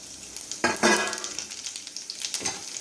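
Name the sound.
cumin seeds sizzling as they are added to the pan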